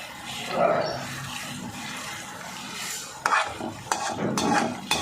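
Fenugreek leaves are stir-fried with a spiced tempering in a pan over high flame. A spatula scrapes and stirs steadily while a soft sizzle runs underneath, and the scraping sharpens in the second half.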